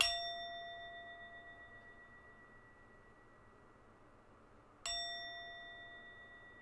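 A meditation bell rings once at the start and again near five seconds, each strike a clear sustained tone decaying slowly over soft background hiss.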